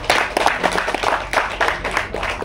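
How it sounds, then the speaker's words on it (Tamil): Applause from an audience at a film audio launch event, steady overlapping clapping of many hands with uneven bursts, fairly close and loud, no talking. "முதல்ல அவருக்கு ஒரு பெரிய கைத்தட்டல கொடுத்துருவோம்."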